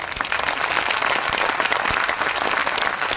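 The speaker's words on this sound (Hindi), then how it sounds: "मैं चाहता हूं कि जोरदार ताली आप लोगों की तरफ होना चाहिए।" Applause from a huge crowd at the Latiya Mahotsav festival, a dense, loud and sustained wash of clapping lasting several seconds without speech.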